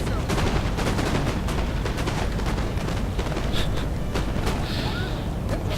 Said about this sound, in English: gunfire coming from my skirmishers here